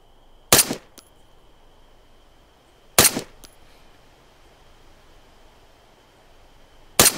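Three loud, sharp 7.62 rifle shots from the video game Arma 3, spaced a few seconds apart, each cracking out alone against a quiet steady background hum.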